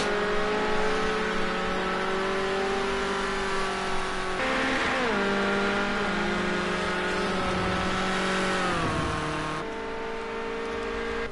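Ford Escort RS 1600 race cars lapping the Donington National circuit, a loud sustained engine drone that shifts pitch as the cars brake and accelerate, heard continuously with no talk.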